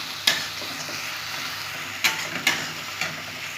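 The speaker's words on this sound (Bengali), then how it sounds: "এখানে 2 চামচ রসুন বাটা আছে, এটা দিয়েও ভালো করে কষে নেব" Chicken stir-fried with ginger and garlic paste in a pan: a steady close sizzle of frying with a few sharp scraping clinks of a spoon stirring, no voices.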